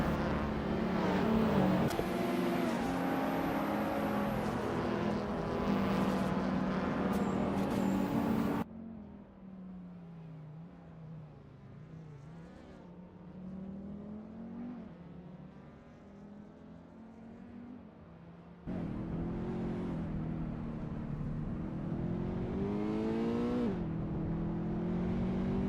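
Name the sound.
race car engines in a racing video game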